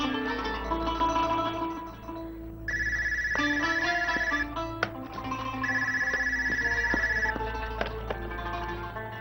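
A home landline telephone rings indoors with repeated electronic trilling tones over a low steady hum and some background music, with no talking.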